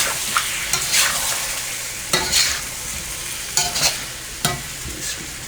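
Tomatoes sizzle in a hot pan of vindaloo base, a steady close frying hiss broken every second or two by the scrape of a spoon stirring.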